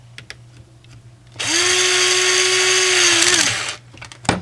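A cordless power driver runs a bolt back in on a Jeep JK during shock reattachment, a loud, close, steady whine lasting about two and a half seconds, with light clicks of handling before and after.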